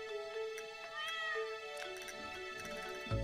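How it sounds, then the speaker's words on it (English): A cat meows several times in Stardew Valley, its tonal calls drifting over a steady game music bed, with a low rumble at the very end; no one talks. "You see this cat here?"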